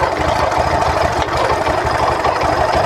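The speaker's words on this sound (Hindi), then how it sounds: "बाइक पूरी तरह स्टार्ट हो गई है, कोई दिक्कत नहीं आ रहा" A Bajaj Discover motorcycle engine idles steadily after starting despite a faulty roller, a close, loud, even putter with a rapid knocking pulse and no voices over it.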